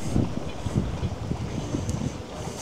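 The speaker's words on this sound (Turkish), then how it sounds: "burada inanılmaz bir rüzgar var" Strong wind buffets the microphone on Meis island by the sea, a steady low roaring gust noise throughout with no voices.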